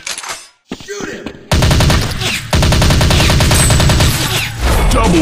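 Mobile shooting game gunfire rattles in rapid automatic bursts, loud and close, with rhythmic repeated shots after a brief quiet gap, over a game soundtrack.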